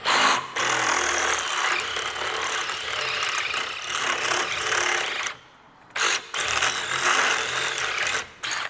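A step drill bit grinds loudly through a metal bracket for a Vespa front folding rack in a long continuous whine, stopping briefly twice before biting in again.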